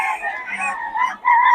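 A quality fighting-stock rooster crows loudly and close by in one long, sustained call with a brief break before a final strong phrase.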